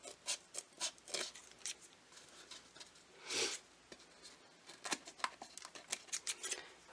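Scissors snip repeatedly through decorative hat material, a quick run of close, crisp cuts with short pauses and one longer rustling slide midway, fairly quiet and with no talking.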